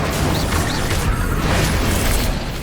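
An Incendio fire spell is cast in Hogwarts Legacy: a loud, dense roaring whoosh of flame fills the whole stretch, thick with rumbling combat noise and a couple of short bright flickers.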